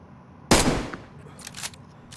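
In the DayZ video game, a single sharp rifle shot cracks loudly and decays quickly, followed a second later by a fainter impact or echo.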